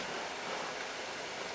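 A pressure canner on a stove warms a pot of water for canning spinach, giving a steady, broadband hiss and rush like running water, even and unbroken throughout with no voices.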